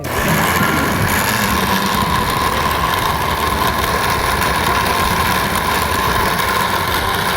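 A blender grinds small shrimp into a seasoning paste in a Korean cooking-show kitchen, making a loud, steady motor whir with a gritty churn that runs unbroken the whole time, with no talking.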